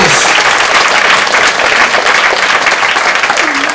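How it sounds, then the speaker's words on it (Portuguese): A church congregation claps loudly in praise of the Lord, a thick, continuous wash of applause with crowd noise underneath, sustained for several seconds. "Vamos a aplaudir al Señor en Cristo Jesús"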